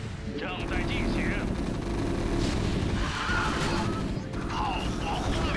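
Artillery barrages in the StarCraft game at the Tarsonis ruins mission, a sustained rumble of booming cannon fire and explosions mixed with game sound effects and brief voice chatter.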